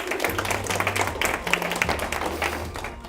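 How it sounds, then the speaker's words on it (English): Audience applause for the winning team at a 2019 LG Challenge event: a steady, dense wash of clapping filling the whole stretch, with faint tonal sounds underneath. "it's a massive round of applause for today's winners"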